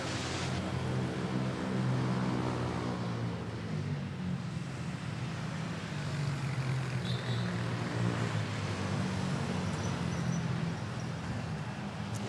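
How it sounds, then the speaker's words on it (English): A Hawaiian Airlines Airbus A320neo airliner touching down at Manila Airport, heard as a steady, distant engine roar and rumble that holds evenly throughout. "Hawaiian flight touching down. Here we go. A320 Neo."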